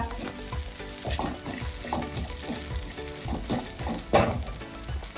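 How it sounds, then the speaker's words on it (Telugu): Split lentils and cumin seeds fry in hot oil as a tempering for beerakaya roti pachadi, a Telugu ridge gourd chutney, crackling and sizzling loudly and steadily with scattered pops and scraping stirs, with no voices. "పోపులన్నీ వేయించుకోవడం అయిపోయింది"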